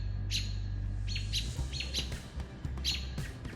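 Small birds, including robins, chirp around a hawk perched at a long-used nesting site: bright, repeated sharp calls in short bursts, fairly close over a low hum at the start.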